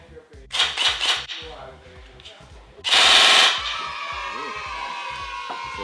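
A G&G ARP556 airsoft rifle cycling in single-shot mode: a few sharp, close mechanical snaps come in a quick cluster, then one louder burst and a steady hiss and whir that trails off.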